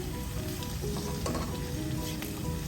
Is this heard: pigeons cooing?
no